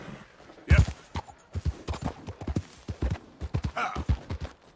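Horse hooves gallop in a steady, loud clip-clop rhythm in the Western open-world game Red Dead Redemption 2, set in Chapter 6, with a brief whinny-like burst and a rider's occasional urging voice over the pounding hoofbeats.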